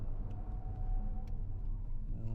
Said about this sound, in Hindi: देखो भाई 100 पे ले जाता हूं और तब आपको ब्रेकिंग करके दिखाता हूं।